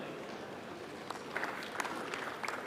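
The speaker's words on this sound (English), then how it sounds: "Yes, a round of applause," An audience applauds at the launch of the National Conversation on Kenya's Future Beyond 2030 in Kenya: a steady, dense wash of clapping, fairly distant and even in level, with a few sharper individual claps standing out.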